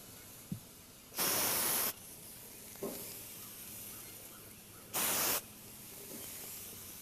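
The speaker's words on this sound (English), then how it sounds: "I always spray the food that's going to go on the grill." Cooking spray is applied to pineapple before it goes on the grill: two short, loud hissing bursts with a quiet pause between them and no talking.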